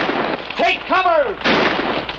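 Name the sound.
gunfire in a Western TV show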